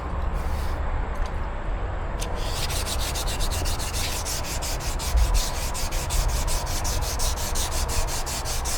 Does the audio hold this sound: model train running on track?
no